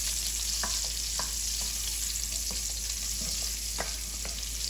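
Whole peeled garlic cloves sizzle in rendered bacon fat in a pot, a steady close hiss with a few light utensil clicks and no voices.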